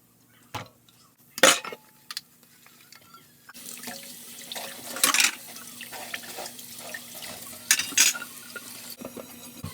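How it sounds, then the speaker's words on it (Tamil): Water runs from a tap with intermittent splashing and clinks of dishes being rinsed, bursts of louder spray rising and falling throughout. "எல்லா பாத்திரத்தையும் கழுவிட்டேங்க."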